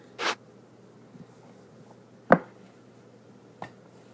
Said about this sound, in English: it's very easy to unpeel tape from this roll